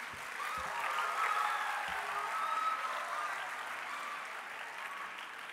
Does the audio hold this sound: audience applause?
yes